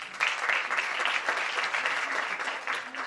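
Sustained audience applause fills a conference hall on personalized healthcare as a department head from Cairo University is welcomed, a dense, steady clatter of many hands that holds at an even level throughout, with no talking over it.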